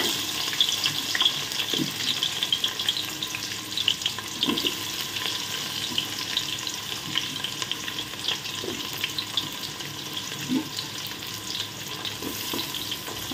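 Onions frying in oil in a kadai for prawn biryani, with a steady, close crackling sizzle that runs the whole way through and occasional soft stirring thumps.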